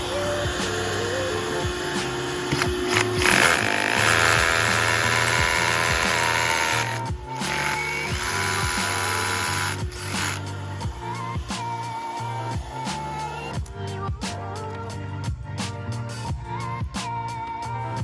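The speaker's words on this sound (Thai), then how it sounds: "ทีนี้เราเรามาลองใช้เครื่องดูดฝุ่นกันอีกทีนะครับ" A DEWALT rotary hammer drills with a DWH201D dust extraction attachment and vacuum running. A loud, steady whirring drone carries through the first half, then gives way to quieter intermittent clatter and short bursts.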